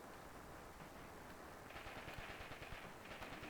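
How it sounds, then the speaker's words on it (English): Machine gun and pistol fire from the Graviteam Tactics war game, a dense continuous crackle of rapid shots with louder bursts in the second half. "Even the guy with the Luger is shooting, or his P-38 sidearm."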